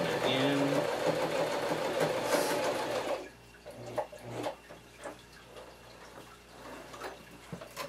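A sewing machine stitches the end of a handmade handbag in a loud, steady whir for about three seconds, then stops, leaving quieter handling noises and faint background sounds.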